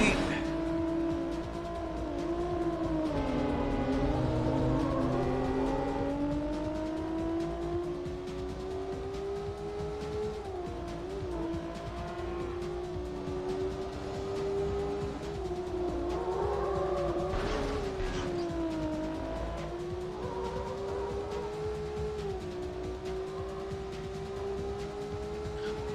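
Steady engine drone of a car racing in Need For Speed: High Stakes on PS1, pitch rising and falling with gear shifts and revs, loud and continuous under occasional talk.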